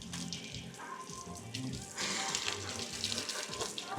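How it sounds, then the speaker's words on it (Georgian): Water running over a surfboard as it is rinsed to wash off sea salt after a surfing lesson, a steady hiss of flowing water that grows louder partway through, with faint voices in the background. "ეს ესე უნდა გარეცხოთ, რომ მარილმა არ გააფუჭოს თქვენი დაფა."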